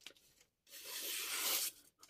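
A Deba knife, freshly polished on a 320-grit Shapton Glass stone and stropped, slices through material in one long, steady cutting pass of about a second, close and fairly quiet, with small scraping sounds before and after.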